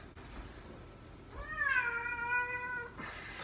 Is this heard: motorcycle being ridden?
no